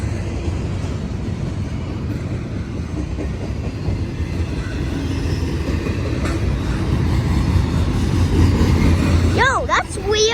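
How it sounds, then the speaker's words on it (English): A train passes somewhere in Ohio, its steady low rumble filling the scene and swelling slightly louder toward the end, while people talk excitedly over it. "Dude, there's 2 trains!"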